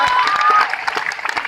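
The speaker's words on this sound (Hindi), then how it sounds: "तालियां" Audience applause at a company meeting, a dense patter of clapping that is loudest in the first half and then thins into scattered, uneven claps over roughly a second and a half.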